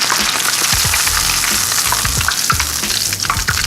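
Shrimp frying in hot oil for a po' boy sandwich, a loud, steady sizzle and crackle that runs through the whole stretch with no talking.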